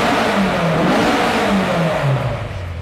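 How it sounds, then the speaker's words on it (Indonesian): Honda S2000 with a full titanium J's Racing exhaust from the header back, revving loudly and close with a raspy, dry engine note that rises and falls across several seconds, no talk over it. "Terus kita juga sambil dengerin nih knalpotnya, titanium tuh suaranya begini."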